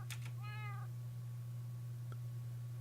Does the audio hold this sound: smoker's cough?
no